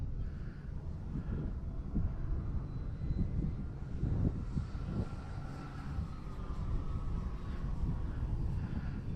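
An OMP Hobby Super Decathlon RC plane without stabilization flies in roughly 15 mph wind. Its electric motor gives a faint, steady buzz that rises and falls slightly, mixed with rumbling wind noise on the microphone.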